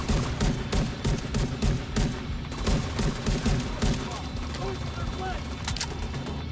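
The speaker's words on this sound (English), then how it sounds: "Use the machine gun." Rapid machine gun fire in The Division 2 rattles in dense, continuous bursts across the whole stretch, loud and close.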